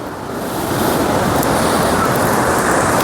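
Sea waves wash and surge continuously at the shore by Tanah Lot temple in Bali, a loud, close, steady roar of surf with wind across the microphone.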